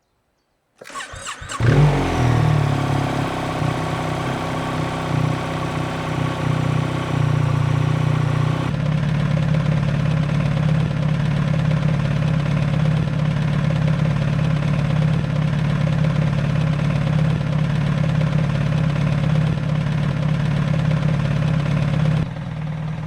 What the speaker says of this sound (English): So let's turn on the bike and see how we go.